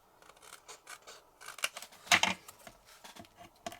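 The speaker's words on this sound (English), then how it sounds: "I'm just going to trim this down" Paper trimmer or scissors cutting card stock for a handmade card, a short run of crisp rasping cuts peaking midway, close and fairly quiet with no voices.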